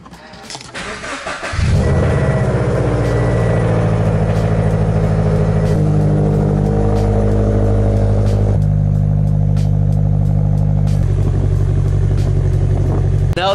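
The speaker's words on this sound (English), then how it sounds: "We'll start this video off with a cold start with my BRZ." Subaru BRZ cold start in a Chicago winter: a brief starter crank catches into a loud, high flare, then settles into a steady, fast cold idle that drops in pitch in a few steps, close and with no talking.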